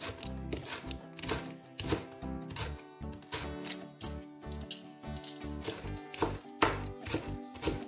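A knife slicing through the porous inner side of a bell pepper on a board, a run of quick crisp cutting strokes, close and moderately quiet.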